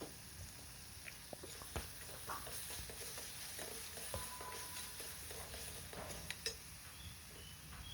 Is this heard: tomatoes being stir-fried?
yes